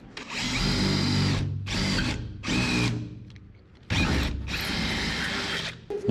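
A Harbor Freight step bit on a power drill cuts holes through sheet metal in a 1961 wagon body, loud close whining bursts with brief pauses between, roughly four drilling runs with no talk.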